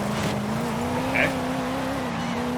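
A 2016 Koenigsegg Regera in Forza Horizon 5 drones at full throttle with a steady, loud engine tone that holds its pitch, and a brief squeal rises over it near the middle.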